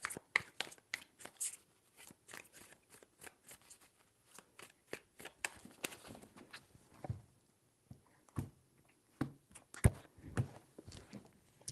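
Tarot cards being shuffled close up, three bursts of crisp riffling and slapping with short pauses between, alone without any voice.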